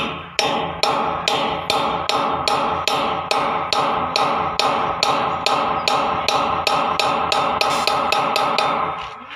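Steel rods, 9 mm thick, hammered into tight 8 mm drilled holes in a brick wall to tie it to a column, a steady run of about two dozen sharp, ringing metal blows close by, evenly spaced and with no talk.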